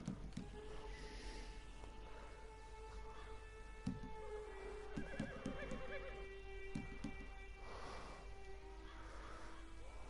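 Horse neighing with soft hoof clatter in the Red Dead Redemption 2 video game, set against a busy outdoor ambience of honking fowl and scattered clicks, all at moderate distance.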